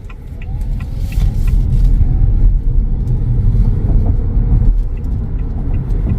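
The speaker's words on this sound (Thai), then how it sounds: "ลองมาดูว่าโอลากูดแคปจีทีจะเป็นยังไง เมื่อเริ่มจากศูนย์เลยนะ" An ORA Good Cat GT electric car pulls away from a standstill, giving a steady, loud low rumble of road and motor noise that swells slightly and holds throughout.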